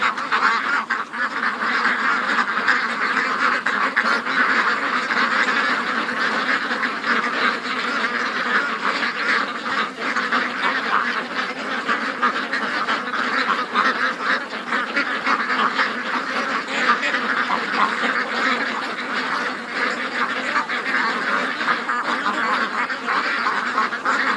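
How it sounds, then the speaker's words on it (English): A large flock of ducks and geese quacks and honks continuously outdoors on a rainy early morning, a dense, steady chorus of overlapping calls close by with no pauses. "Come on, ducks."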